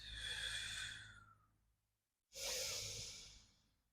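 Deep, audible yogic breathing in a park: a long, forceful breath tapering off, a short pause, then another strong airy breath, close and clear with no talking.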